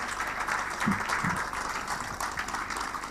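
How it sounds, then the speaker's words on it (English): A crowd at an awards ceremony applauds steadily, a dense even patter of many hands clapping at moderate distance with a couple of low thumps in the mix. "Please let's give him a round of applause."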